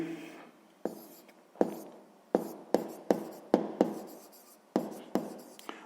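Handwriting on paper during a sixth-grade maths exercise: close, quiet scratching of a pen with a string of sharp taps and strokes in an uneven rhythm, no voices.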